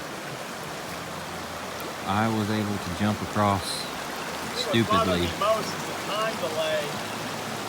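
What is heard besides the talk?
creek water flowing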